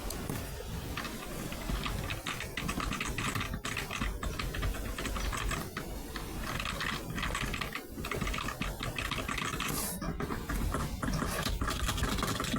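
Rapid clicking of computer keyboard keys, a dense patter of taps over a constant background hum, continuing without pause.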